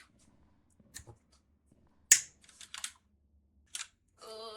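A single sharp finger snap stands out in a quiet room during a horror modpack game session, followed by a few soft clicks and a faint tonal game sound near the end.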